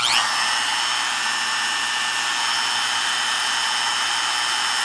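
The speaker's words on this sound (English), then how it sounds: "And now I'm going to turn on the Makita" A Makita power tool runs steadily and close, a constant whirring motor hum with a high-pitched whine that holds unchanged throughout, with no talking.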